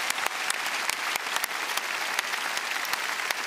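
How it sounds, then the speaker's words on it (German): A studio audience at a German TV game show claps steadily, a dense even patter of many hands with a few sharper, louder claps standing out near the front. "Ein Applaus bitte für Leon und Jakob für die Hilfe hier."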